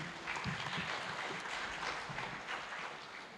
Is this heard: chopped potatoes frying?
no